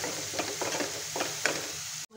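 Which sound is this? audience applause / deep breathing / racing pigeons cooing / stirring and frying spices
stirring and frying spices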